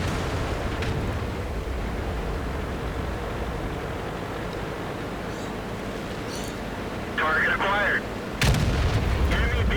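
Tank gun in a video game firing at an enemy, a loud boom with a sharp broadband crack near the end over steady engine rumble and battle noise.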